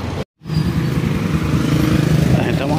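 A Honda Click 150 scooter engine idles steadily after an engine overhaul, a close, loud, even motor drone with a brief cut near the start, and people talk over it.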